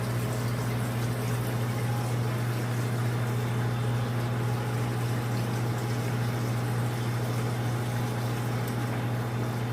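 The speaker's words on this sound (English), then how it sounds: "Pump turns on. It should fill again. Yep, filling again until it hits the high water probe." A Manitowoc ice machine's pump runs as the unit refills with water, giving a loud steady hum with a constant tonal drone and an even wash of liquid noise throughout, with no voices.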